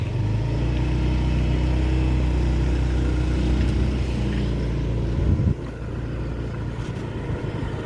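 A car drives a road toward Bukit Sileh in the cool highlands of Alahan Panjang, West Sumatra, its steady engine hum and road noise heard from inside and close up, with a brief shift in tone partway through.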